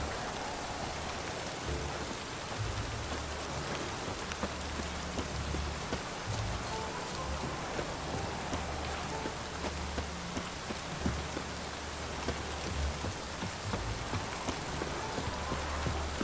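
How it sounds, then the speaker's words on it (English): Steady rain in the video game Witcher 3 patters down on a surface, a dense even hiss with no voices, continuous throughout. "No use doing any work in this rain."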